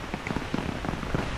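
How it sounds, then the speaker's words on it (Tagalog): Dense, steady rain pattering hard on a surface, a constant hiss with scattered louder drops throughout. "Malakas ang ulan."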